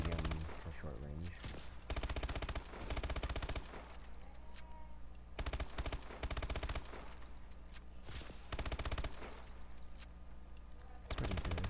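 MP11 gun fired in a video game: repeated loud bursts of rapid automatic gunfire, separated by short pauses.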